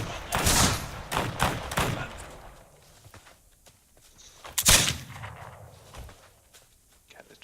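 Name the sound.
gunfire in a firefight, video game This Land Is My Land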